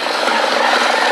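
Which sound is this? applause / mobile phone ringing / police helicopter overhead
police helicopter overhead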